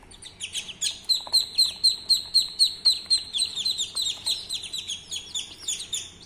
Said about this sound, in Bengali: এই যে আমি হাঁসের বাচ্চাগুলোকে বাসায় নিয়ে আসছি।